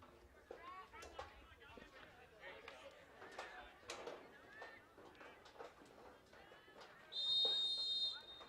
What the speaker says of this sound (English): That'll be a whistle